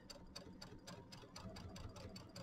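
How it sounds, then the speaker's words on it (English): Sewing machine top stitching an eighth-inch seam around the edge of a small mini quilt: a steady, rapid run of needle strokes with an even mechanical rhythm, close and continuous, with no talking. "I'm just going to stitch around and we're going to do about an eighth of an inch top stitch all the way around here"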